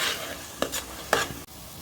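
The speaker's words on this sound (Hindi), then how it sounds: "अभी आपको थोड़ा कोतमीर डालना है खुशबू के लिए। फिर इसको हिला दीजिए।" Masala with coriander leaves is stirred in a pan for prawn biryani, giving two quick scraping strokes of a spoon against the metal over a faint sizzle, close and with no voices.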